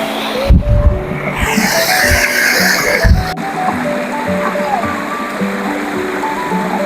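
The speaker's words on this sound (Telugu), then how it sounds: "ఇక్కడ ఎంత న్యాచురల్ ఉందో వాటర్ ఫ్లోయింగ్ సౌండ్" Aare Falls sends a steady, loud rush of flowing water down its stream, a broad continuous roar close by, with people's voices talking over it near the start.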